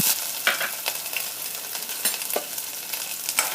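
Cumin seeds, green chilies and ginger sizzle and splutter in hot oil on a tawa, a steady close frying hiss broken by scattered pops and the occasional scrape of a stirring spoon.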